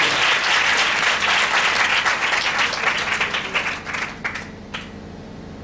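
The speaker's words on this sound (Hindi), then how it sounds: "जोरदार ताली बजाकर परमेश्वर का वचन के लिए" A church congregation applauds loudly, a dense wash of clapping that holds steady for several seconds and then thins into scattered individual claps as it fades.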